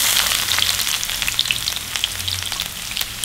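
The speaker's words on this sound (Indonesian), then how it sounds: "Ini bawang merah bawang putihnya kita goreng, kita mau jadikan bawang goreng." Shallots and garlic frying in hot oil, a loud, steady, dense crackle and sizzle with constant fine popping throughout, close and alone with no talk.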